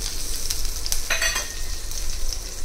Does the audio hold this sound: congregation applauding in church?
no